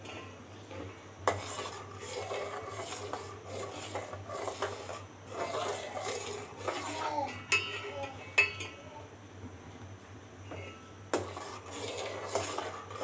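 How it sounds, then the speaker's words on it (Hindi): A spoon scrapes and stirs thick khoya around a metal pan in steady, repeated strokes, with occasional sharper clinks against the pan's sides, close and fairly quiet over a low background hum. "और चम्मच को इसलिए घुमाते रहना है ताकि बिल्कुल भी नीचे ना लगने पाए।"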